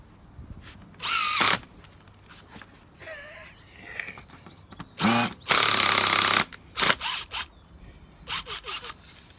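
A power drill drives a screw into a spare tyre in several short, close whirring bursts, one longer run in the middle, with clicks and handling noises between them.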